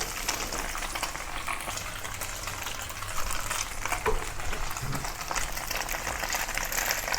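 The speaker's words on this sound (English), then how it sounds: "pan fry the tofu on both sides until golden" Tofu pan frying in a pan, a steady close sizzle of hot oil with a constant crackling hiss and faint shifting underneath, unbroken for the whole stretch.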